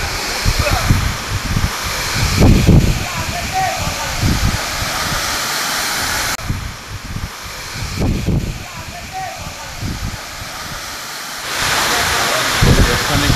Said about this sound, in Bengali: এটা হচ্ছে সহস্রধারা টু ওয়াটারফলস।